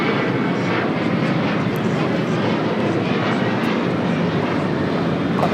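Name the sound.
Delta Airlines Boeing 737-900ER taking off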